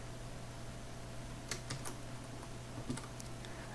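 A computer keyboard is typed on in a few brief clusters of light clicks, faint and close over a steady low hum.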